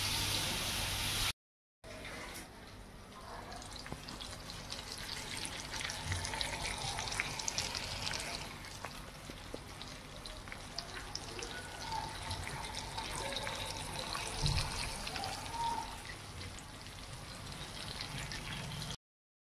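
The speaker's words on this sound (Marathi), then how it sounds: "चला आता आपण फ्राय करायला ठेवूया मस्त." Rani sea fish frying in oil on a tawa, a soft, fairly distant steady sizzle with faint crackles, after a short silent gap near the start.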